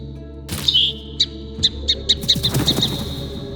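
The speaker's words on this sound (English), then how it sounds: "as you can see, it's Birdsong of Ontario" A sparrow in Ontario gives a run of sharp, high chirps, a few isolated notes and then a quicker cluster, close and clear over quiet outdoor ambience.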